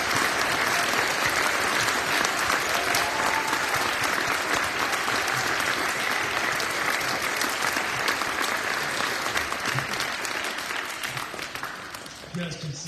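A crowd applauds steadily at an elementary school academic awards ceremony, sustained clapping that gradually fades toward the end.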